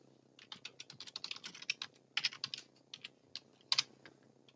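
Password typed on a computer keyboard, a quick irregular run of soft close key clicks with brief pauses, quiet and alone.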